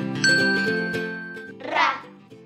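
A small bell rings once with a bright, sustained metallic tone that slowly fades, followed by a short shimmering jingle, clear and close with no talking.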